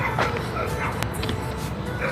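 A dog that is tied up on a building rooftop gives short yips and whimpering barks. The sounds are moderately close, and people talk over them in Portuguese.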